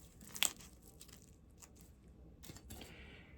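Close crunches as a crisp fried roll, some filled with cabbage, is bitten and chewed, one sharp bite followed by softer crackling chews.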